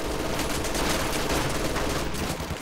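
A machine gun fires nonstop from inside a church in Company of Heroes 2, dense sustained automatic bursts layered with battlefield gunfire, loud and close throughout.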